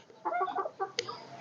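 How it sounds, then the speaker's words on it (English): Broiler chickens in a cage give soft, nearby clucks in short bursts, with one sharper squawk near the end and no talk. "these are also some other broiler birds in another cage"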